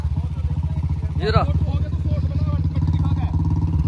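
A Royal Enfield Bullet motorcycle engine thumps in a steady, close, rapid idle-like rhythm while levelling soil on farmland, with someone briefly speaking over it.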